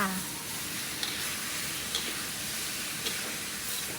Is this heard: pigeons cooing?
no